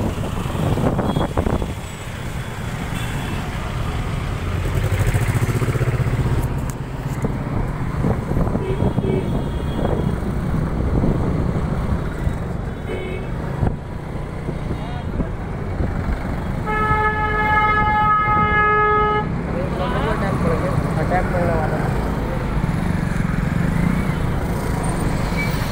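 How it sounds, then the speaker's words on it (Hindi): Heavy road traffic between Ghaziabad and Meerut on a crowded Ganga Snan festival day: a continuous engine drone with repeated car and truck horns honking, one long blaring horn partway through, and no clear talking. "गाइस ट्रैफिक आप देख सकते हो,"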